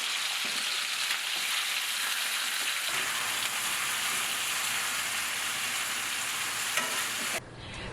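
Pieces of chicken fry steadily in a pan for Persian zereshk polo, a constant dense sizzle that carries on through the clip with stirring rustles near the start and a sudden drop in level just before the end.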